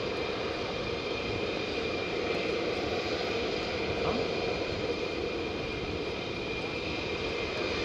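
F-16 fighter jets from Aviano pass high and distant over the Alps, a faint steady engine rumble with no clear peak, continuous for the whole stretch.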